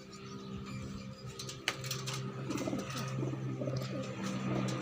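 Pigeons cooing nearby in a steady low murmur, with a few faint chirps and one sharp click partway through; no talking.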